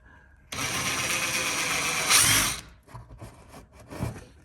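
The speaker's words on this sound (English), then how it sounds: "So we're gonna drill that through" A power drill boring a 1/4 inch hole during a Polaris RZR 900 light bar install, running loud and steady for about two seconds before a brief harder bite as it breaks through, then stopping, with soft handling noises after.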